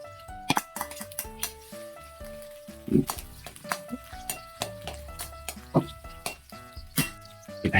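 Garlic sautés in a pan over an outdoor grill setup, with sizzling under sharp clinks and scrapes of a utensil against metal, in irregular near bursts.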